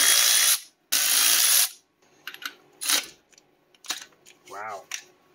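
A socket wrench with a locking extension works a spark plug out of a 1976 Chevy LUV 4x4 engine, giving two long loud ratcheting runs, then scattered clicks and metallic handling, close by, with a brief voice near the end.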